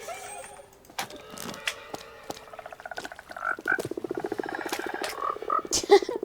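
Frogs croak in Minecraft version 1.19 in a rapid, rhythmic series of low ribbits, clear and fairly close, layered with other soft game creature sounds and no talk.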